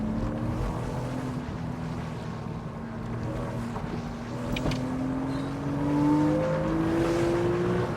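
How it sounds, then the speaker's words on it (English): Porsche Boxster 3.2S flat-six engine pulling steadily while driving, a continuous droning note rising in pitch toward the end as revs climb, heard from inside with wind and road noise around it. "That flat 6 picks up pace past about 5, but it really does pull from almost anywhere."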